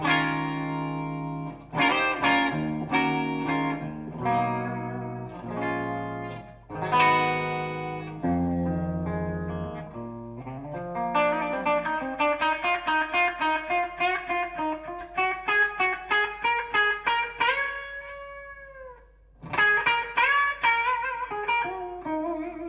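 A distorted electric guitar through a tube amp plays chords and single-note runs with sustained, ringing notes, loud and alone with no talking.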